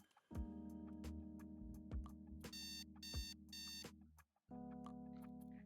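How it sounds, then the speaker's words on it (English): Alarm clock buzzing in loud repeated electronic bursts with brief gaps, a steady harmonic tone that cuts off and then resumes. "the alarm starts buzzing"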